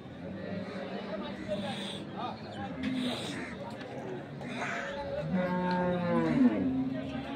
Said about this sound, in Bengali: এখানেও আমরা আরেকটি গরু দেখছিলাম।